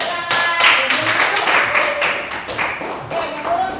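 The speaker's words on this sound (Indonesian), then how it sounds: "Tepuk tangan" A classroom of students claps hands after a group presentation, a loud, close run of sharp claps with uneven rhythm, mixed with some voices and a few thumps.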